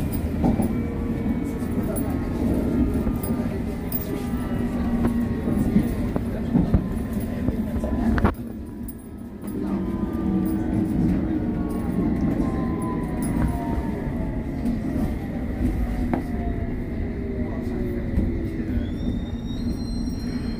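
A London Underground District line train rumbles steadily along the rails, with faint squeals and a brief drop in the noise partway through; muffled voices sit under it.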